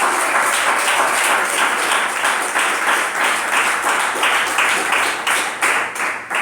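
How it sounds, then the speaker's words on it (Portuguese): Church congregation clapping and applauding together during a worship service, a dense, steady roar of many hands with rhythmic pulses, loud and sustained throughout, with a faint voice underneath. "Bate palmas e louva a Deus"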